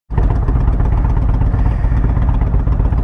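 A motorcycle engine starts abruptly and runs loud and close with a rapid, rough, pulsing rumble on a dirt road in the Colorado Rocky Mountains, steady throughout.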